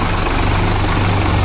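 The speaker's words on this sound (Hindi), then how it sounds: "दोनों ट्रैक्टरों को दूसरे के हाई में लगा दिया गया है और देखते हैं कौन से की कैसी चाल है" Two Sonalika tractors, an MM 39 and a DI 35, run side by side in second gear high range during a performance test, giving a loud, steady, low diesel rumble throughout with no talking.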